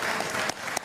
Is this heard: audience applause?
yes